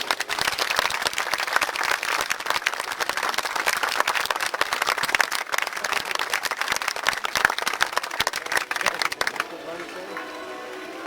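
A crowd at a 2004 history festival battle re-enactment claps and cheers loudly and continuously for several seconds, then the noise drops off abruptly near the end.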